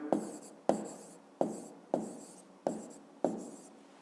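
Pen or pencil writing on paper for a fifth-grade maths exercise, six evenly spaced scratchy strokes, each starting sharply and trailing off, close and quiet with no talk.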